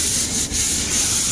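Sandpaper rubs the painted surface of an accent wall between paint coats, close and loud, in steady strokes with a brief dip in the middle.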